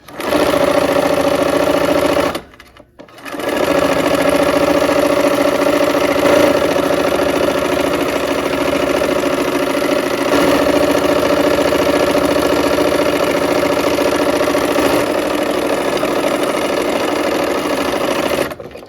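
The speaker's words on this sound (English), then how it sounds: "now we'll go ahead and take these and sew a 1/4 inch from both sides" A sewing machine runs steadily while stitching a scant quarter-inch seam in flying geese quilt pieces, a loud, close mechanical whir that stops briefly near the start and then continues without a break, with no talking.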